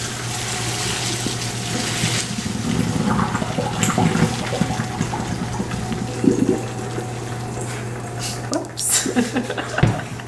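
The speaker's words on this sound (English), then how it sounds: "All right, we're gonna pour it into the strainer." Hot water and boiled sweet potatoes pour into a kitchen strainer, a steady close splashing rush with a low hum underneath and a couple of louder clunks near the end.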